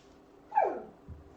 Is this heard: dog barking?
yes